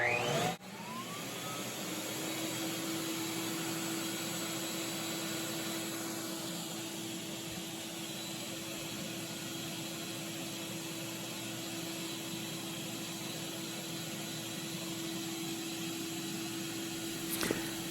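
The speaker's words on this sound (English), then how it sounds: "So let's turn this on." A FOXAlien dust separator running with a shop vacuum drawing sawdust: the motor starts with a rising whine, then holds a steady loud roaring hiss with a constant hum, running alone until it cuts off.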